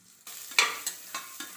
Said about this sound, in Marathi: ह्या कुकरमध्ये आपण पावटा चांगला भाजून घेऊया। पावटा भाजण्यासाठी थोडंसं तेल घालून घेऊया।